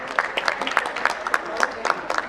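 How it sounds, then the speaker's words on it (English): An audience at a corporate IT summit applauds, with individual nearby claps standing out in a quick, slightly uneven rhythm over a softer background of hands and murmuring voices. "Huge round of applause, please."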